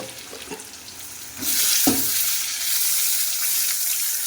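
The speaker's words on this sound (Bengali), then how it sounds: "একটা আলু দিচ্ছি চলো আলুটা ভেজে নিয়ে আসছি" Potato frying in hot oil seasoned with panch phoron and salt in a home kitchen: a few soft knocks as it goes in, then a loud, steady hiss of sizzling that carries on to the end, with no talking.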